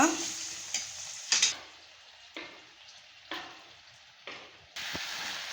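Onion and tomato sizzling and frying in a pan for poori masala, with intermittent scraping stir strokes roughly every second, close and fairly quiet, no talking.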